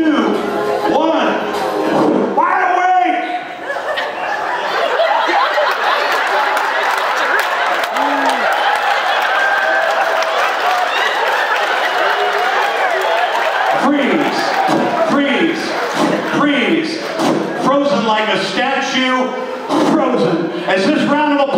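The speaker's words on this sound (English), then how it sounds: "give them a huge round of applause" Applause and cheering from a cruise ship audience at a hypnotist show on a Carnival Jubilee sea day, a loud, sustained crowd roar with clapping mixed among voices and a host talking over it.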